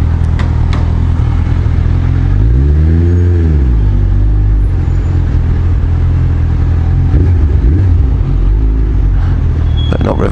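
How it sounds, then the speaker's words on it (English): A motorcycle engine idles close by, then revs up and back down in a single rising and falling swell before settling into a rumbling idle. "Better not rev it too much, it'll probably throw me out."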